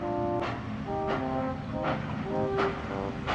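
A steam engine puffs slowly through an old mine, a regular series of four breathy chuffs spaced under a sustained tonal hum, close and moderately loud without speech.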